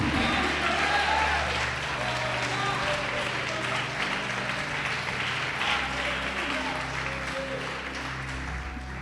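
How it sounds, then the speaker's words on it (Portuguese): Sustained applause from a large church congregation indoors, dense and steady for several seconds with voices mixed in, gradually tapering slightly. "Pode aplaudir, glorificar."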